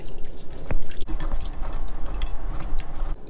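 Cold running water splashing over raw chicken feet rubbed with coarse sea salt as they are massaged by hand, a loud close mix of wet squishing and dripping with uneven bursts.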